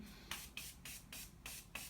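A scented body mist is sprayed in short hissing bursts, about six quick puffs in a steady rhythm, close and fairly loud with no talking.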